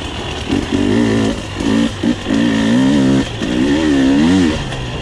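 Husqvarna TE300i fuel-injected two-stroke dirt bike, 2020 model, lugging in third gear: a loud, close engine note pulling steadily at low revs, with brief dips and surges as throttle is rolled on and off, no talk.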